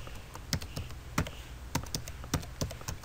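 Typing on a computer keyboard, quiet close-up clicks in small irregular clusters of keystrokes over a faint steady hiss.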